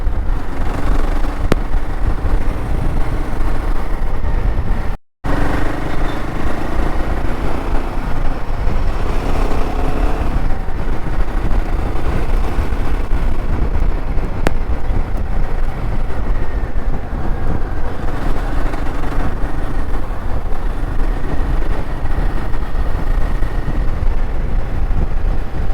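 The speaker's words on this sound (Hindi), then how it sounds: "आप इंजन की आवाज़ एंजॉय करो" Royal Enfield Himalayan 450 motorcycle engine heard while riding, a steady loud drone mixed with heavy wind rush throughout, with one brief dropout partway through.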